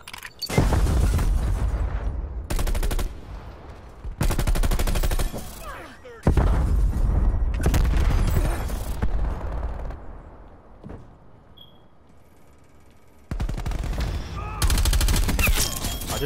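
First-person shooter gunfire comes in loud bursts of rapid shots and booming blasts, split by short lulls and one longer quiet stretch before a final heavy volley.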